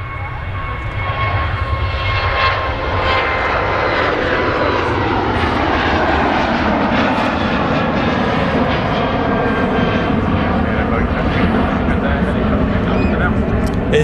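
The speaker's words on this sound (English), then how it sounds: "KLM 737 now on the roll" A KLM Boeing 737 rolls down the runway at Manchester Airport on takeoff, its engines a loud, rising roar with a shifting whine that holds continuously from start to finish.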